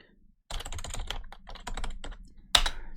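Someone types an administrator password on a computer keyboard during Windows Server setup: a quick burst of close, crisp keystrokes with short pauses, ending in one louder, sharper key press.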